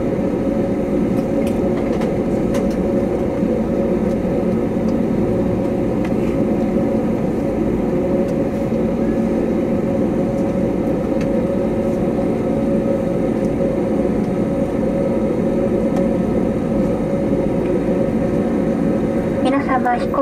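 ANA Airbus A320neo taxiing to a stop at Kumamoto Airport, heard from inside the cabin as a steady, loud engine and airframe rumble that stays constant throughout.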